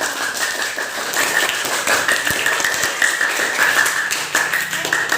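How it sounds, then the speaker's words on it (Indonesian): Group hand clapping from a class of participants in a teacher training session, a continuous patter of many hands at moderate loudness throughout. "Tepuk tangan untuk kita"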